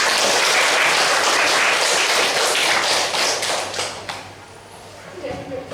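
Group applause during a job training session, a loud, dense burst of clapping that tapers off toward the end, followed by a few scattered thumps.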